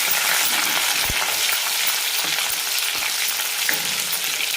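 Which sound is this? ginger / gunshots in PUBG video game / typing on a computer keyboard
ginger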